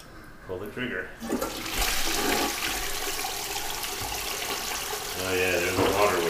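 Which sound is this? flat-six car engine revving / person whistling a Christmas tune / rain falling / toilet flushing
toilet flushing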